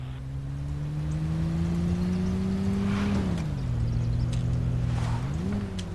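A car driven in the video game State of Decay, a steady engine drone whose pitch rises slowly, dips and then climbs again, heard alone at moderate volume.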